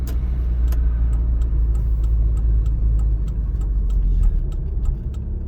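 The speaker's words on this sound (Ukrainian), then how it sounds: "навчальний автомобіль" Driving-school training car moving along a road, a steady low engine and road rumble with a regular ticking turn-signal indicator clicking throughout.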